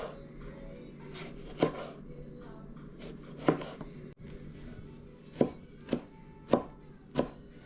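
A knife chops reef fish into quarter-inch pieces on a cutting board, with about six sharp, separate thunks at uneven intervals over a quiet room background.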